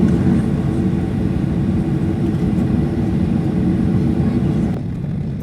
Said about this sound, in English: From the gate, we taxied via the ramp and taxiway Charlie 1 to runway 28 left.